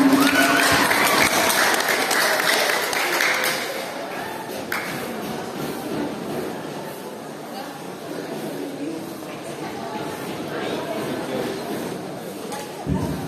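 A crowd at a barangay basketball league program applauds the municipal vice mayor, with loud clapping at the start that thins and fades into murmuring chatter and shuffling, plus a brief bump of noise near the end.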